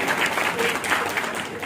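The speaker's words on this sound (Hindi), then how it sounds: "एक बार विकास भाई के लिए जोर ला तालियां बजा" An audience claps steadily at a corporate dealer meet hosting event in Valsad, a dense, continuous round of applause from a crowded room with voices mixed in.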